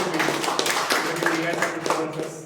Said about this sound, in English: Let's have a round of applause for all of us